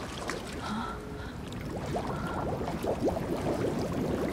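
Sloshing, gurgling water in a sewer level of The Evil Within DLC The Assignment, a steady wet churn with brief splashy bursts throughout, fairly close and moderately loud.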